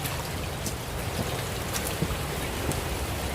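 Heavy rain pours steadily during flash flooding in Trinityville, St Thomas, a dense, even hiss of drops on surfaces with occasional louder splashes, continuous and close throughout, with no talk.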